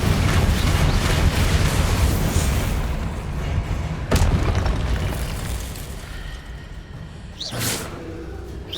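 Incendio fire spell cast in the Hogwarts Legacy video game, a loud roaring fiery explosion with a sharp burst partway through and a fading rumble, followed by smaller magical whooshes near the end, no talking.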